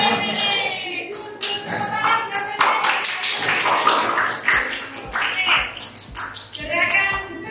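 During a classroom coaching session, a group claps their hands in short, rhythmic bursts of fairly loud, near claps, with voices heard between them.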